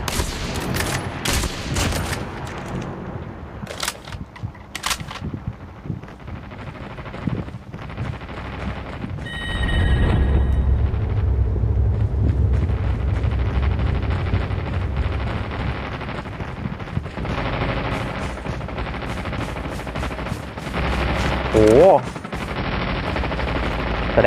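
Gunfire from a sniper rifle in the mobile shooter Call of Duty Mobile, with sharp shots in the opening seconds over steady game noise, then a denser, louder rumble of battle with a voice speaking.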